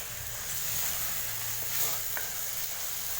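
Goat intestine curry with tomatoes frying in a pan, a constant close hiss of sizzling oil with faint stirring scrapes and a light clink.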